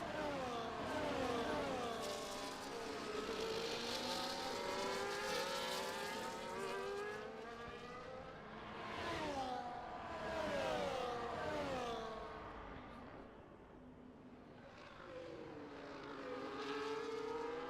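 F1 race cars in a video game at Imola blare past in overlapping waves, engines rising and falling in pitch as they sweep through the final corners onto the back straight, fairly faint overall.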